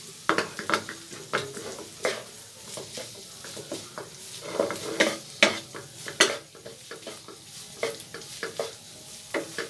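Keema with green chillies fries on a tawa, a close sizzle punctuated by frequent rhythmic metal scrapes and clinks of a spatula stirring the mince.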